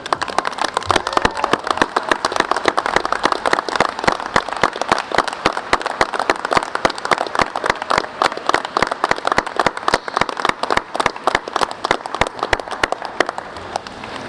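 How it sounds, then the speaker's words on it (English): An audience at a university communication graduation ceremony claps in sustained applause, dense and continuous sharp clapping with no one speaking over it. "so that we can join in applause to celebrate your day"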